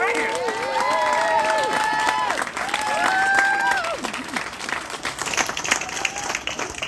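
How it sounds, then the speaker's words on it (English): A crowd applauds and cheers at an October 2020 neighborhood rally against General Iron, dense clapping with whoops and shouted voices layered over it, loud and steady, while a single spoken word cuts through briefly. "I want everybody to give them a round of applause"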